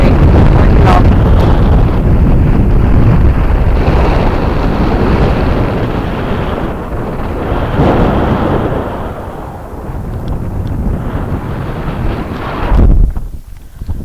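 Heavy wind buffets the microphone during an outdoor run on the Coast to Coast route in England, in loud, rumbling gusts that ease slightly and then surge again toward the end.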